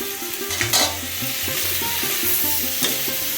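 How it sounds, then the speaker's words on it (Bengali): Okra goes into a hot pan of frying spices, giving a steady loud sizzle with rhythmic scraping and knocks as a spatula stirs it. "এবার ঢেঁড়স দিয়ে দেবো"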